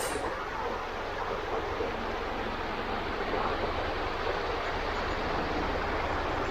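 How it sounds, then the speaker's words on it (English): A small waterfall at Black Church Rock on the Clovelly coast of North Devon gives a steady, even rush of broadband water noise that stays close and constant throughout, with no voices. "we got a little waterfall on one side"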